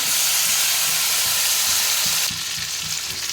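Potatoes fry in hot oil in a pan, giving a loud, steady, close sizzle with faint stirring knocks underneath. The level drops slightly in the final second.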